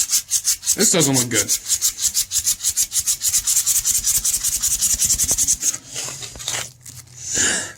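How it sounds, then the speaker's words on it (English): Sandpaper rasps over the rusted kickstart of a 1973 Honda CL450 motorcycle in quick, rhythmic back-and-forth strokes, close and dry, with a brief spoken remark near the start. "I'm just going to give it a nice sand and try and make it look a little bit more even."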